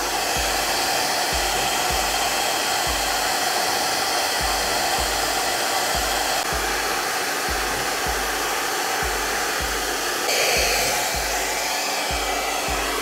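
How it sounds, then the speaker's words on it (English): A blow dryer runs steadily and loudly close by, drying the hairline of a lace front wig, with a continuous whooshing airflow and a faint regular pulsing underneath. "You're gonna take your blow dryer."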